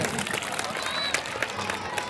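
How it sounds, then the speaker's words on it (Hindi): An audience at the Pahchan Foundation Art Mela 2022 in Kamarhati, gathered on an open ground with many children, gives loud, continuous applause mixed with crowd noise and some voices. "एक बार जोरदार तालियां परवेज सर के लिए"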